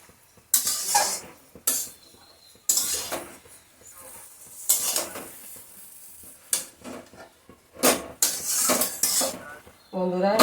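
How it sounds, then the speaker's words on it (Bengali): A pot of Malabar spinach cooked with mustard-poppy paste being stirred, with repeated loud metallic clanks and scrapes of a utensil against the pot and a lid set down, separated by quiet stretches of faint sizzling. "একটু নাড়াচাড়া করে ঢাকনাটা দিয়ে দিচ্ছি।"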